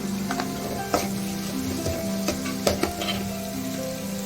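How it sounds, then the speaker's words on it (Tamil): Garlic and green chilli sautéing in a pan with tomato for a snake gourd and moong dal kootu, a steady close sizzle with a few sharper stirring clicks and scrapes, no talking. "இதெல்லாம் நல்லா வதங்கி வரட்டும்"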